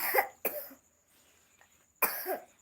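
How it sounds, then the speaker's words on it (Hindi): A young girl coughs in short, sharp bursts, three separate close, fairly loud coughs with throat-clearing roughness and quiet pauses between them. "मेरी बेटी को देखो खांसी आ रहा है।"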